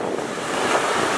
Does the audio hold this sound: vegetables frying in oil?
no